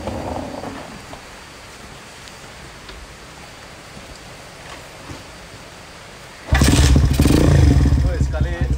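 A 1997 motorcycle with no electric starter, quiet ambience and faint scuffs, then after about six and a half seconds the engine catches on the first kick and runs loud and steady, idling with a rough low rumble until the end.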